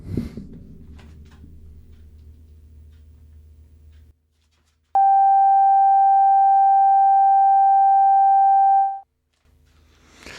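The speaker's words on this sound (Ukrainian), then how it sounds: "запускаємо тестовий сигнал на синтезаторі" A steady synthesizer test tone for calibrating a Sony TC229SD tape deck starts abruptly and holds loud and pure for about four seconds, then cuts off. Quiet mechanical ticking and background noise come before and after it.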